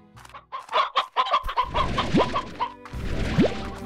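Hens cluck in the Slime Rancher video game, a quick run of close, sharp clucks and squawks, with a couple of rising squeaky calls near the end.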